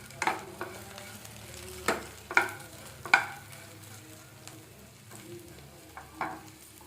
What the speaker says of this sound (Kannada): ಈ ಕಡೆ ಬೆಂಡೆಕಾಯಿನೂ ಚೆನ್ನಾಗಿ ಫ್ರೈ ಆಗಿದೆ.